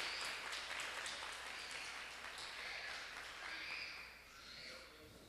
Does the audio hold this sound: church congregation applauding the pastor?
yes